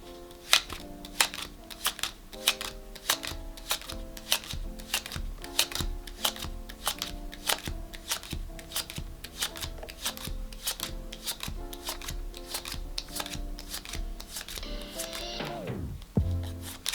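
Playing cards shuffled by hand in a quick, rhythmic series of crisp riffles and taps, close and clear, ending in a final cascading riffle with no talking.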